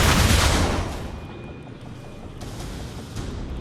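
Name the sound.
Transformers soldier firing rockets, from video game War for Cybertron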